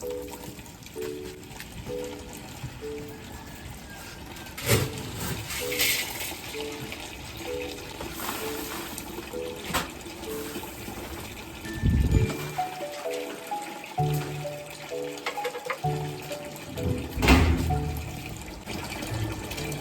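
Water runs into buckets for soaking horse feed on a stormy farm, a steady faint trickle and pour with a few louder splashes and clunks mixed in.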